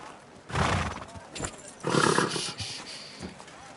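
A horse in Kingdom Come: Deliverance 2 whinnies loudly twice, nearby, with a short snort between and a faint background hum; no talking is heard.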